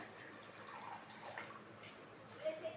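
Water is poured from a tap onto sabja seeds in a bowl, producing a faint, steady trickle and splash with a couple of small clinks near the end, heard close in a quiet kitchen.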